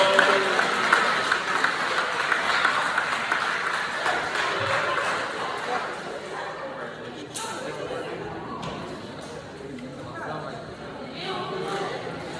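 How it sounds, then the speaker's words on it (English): An audience at a middle school program ceremony claps in a broad wash that starts strong and gradually thins, with crowd chatter and voices mixed underneath. "can y'all give a hand clap for Mr. Julio Deloso?"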